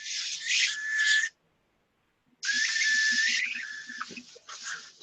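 An airbrush lets out a high, steady whistle while spraying, in two long close bursts separated by a short silence, with faint clicks beneath.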